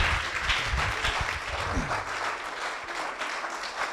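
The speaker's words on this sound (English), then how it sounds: "Give her another round of applause, please" A small audience applauds at an evening music event in a venue, continuous brisk clapping from many hands filling the whole stretch, with a few low thumps and murmurs beneath.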